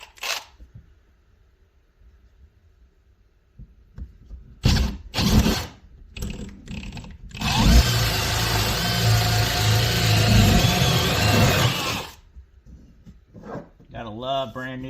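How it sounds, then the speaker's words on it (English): A power drill fitted with brand-new bits bores out the corners of a cutout during a heat pump installation. A few handling clicks come first, then about four seconds of loud, steady, close grinding, followed by short rattles. "And drill out the corners."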